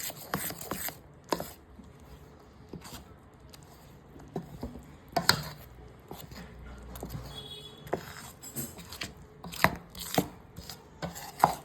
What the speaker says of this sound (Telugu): ఇప్పుడు ఒకసారి దీన్ని బాగా ఉండలు లేకుండా కలుపుకోవాలి.